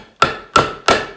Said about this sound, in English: if we can drive that very rusty nail to any point where it can be grabbed